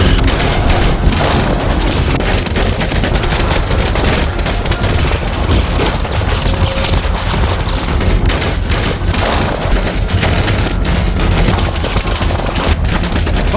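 Soldiers fire guns in a film scene, a dense, loud, continuous fusillade of rapid gunfire and booms that fills the whole stretch without a pause.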